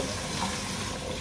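Tap water runs steadily into a sink to wet makeup sponges, a continuous close hiss and splash with no talking.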